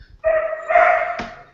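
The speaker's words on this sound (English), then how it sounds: "sorry for my dog" A dog barks a couple of times close by, two short loud yaps with a strong tonal edge, the second trailing into a sharp higher cry, with no talk over it.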